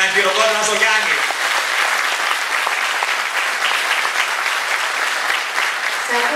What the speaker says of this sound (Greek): Ένα χειροκρότημα στο Γιάννη